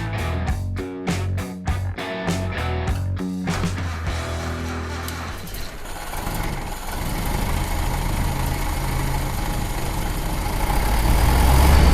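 A Ford Model A engine, its exhaust leak just repaired, idles with a steady low putter that builds into a continuous rumble after some sharp clattering knocks at the start.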